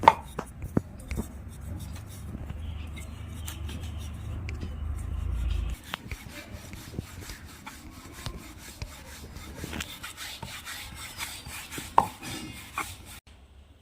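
A rolling pin works flour and potato dough on a board, making soft rubbing rolls and scattered light knocks. A low hum runs underneath for the first half.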